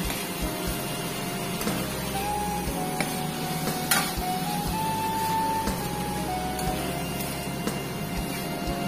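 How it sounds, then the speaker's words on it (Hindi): Boiled macaroni being fried in a pan with spices and soy sauce, a steady close sizzle with scraping stir strokes and occasional clinks throughout, no talking. "अब मैंने इसमें पहले से बॉयल किया हुआ जो माइक्रोनी रखा हुआ था उसको डाल दिया है, और इसको भी फ्राई कर लेंगे।"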